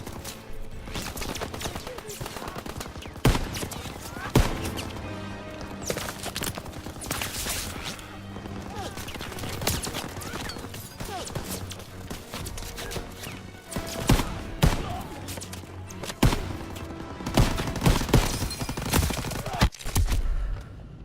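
Gunfire rages in a Call of Duty WWII D-Day beach landing battle, with dense overlapping shots, sharp bursts and explosions throughout, loud and continuous, while voices shout commands amid the chaos.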